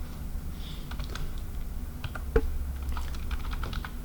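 C code being typed on a computer keyboard, a close run of light, quick key taps with one sharper keystroke, no talking.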